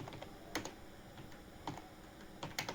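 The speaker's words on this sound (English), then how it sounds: "I will click and type here drop down menu" Keystrokes on a computer keyboard while building an HTML and CSS drop-down menu, a few quiet clicks scattered in short bursts over a low room hum, no talk.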